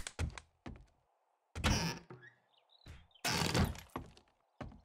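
Jars smash one after another in the survival video game 7 Days to Die, with several sharp, loud glass-breaking bursts separated by brief quiet gaps and a few dull thunks.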